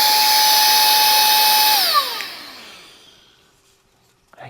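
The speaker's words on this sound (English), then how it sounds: "So now if I turn it on, it's blowing the air." A HEEBUKE handheld vacuum cleaner with a brushless motor set to blow air rather than suck, letting out a loud, steady high whine that winds down in pitch and fades to quiet after switching off.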